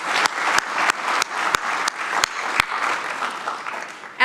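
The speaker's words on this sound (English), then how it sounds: "can we give him another round of applause" Audience at an IT leaders certificate program graduation gives a round of applause, a loud dense patter of many hands with a few sharper close claps standing out, fading slightly toward the end.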